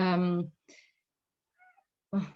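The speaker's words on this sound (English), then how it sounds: "my cat just came in to say hello" A house cat meows near the microphone in a few short calls between stretches of indoor talk, with a person speaking before and after the meows.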